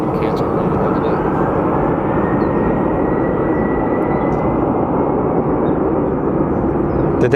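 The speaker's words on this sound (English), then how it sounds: "That is the second cancer plane of the day." A steady, loud broadband roar from an airliner in charity livery at Phoenix Sky Harbor Airport, holding constant for several seconds with no break.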